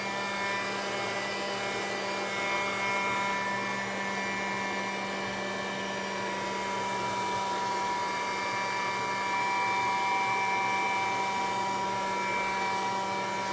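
A hair dryer blows steadily on a mixed media MDF panel, a continuous close, loud whooshing hum with a constant pitch that holds from start to finish.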